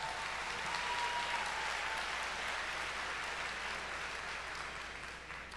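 Steady applause from an audience at a university spring commencement ceremony fills the space, a dense even patter of many hands that holds at a constant level and barely fades toward the end.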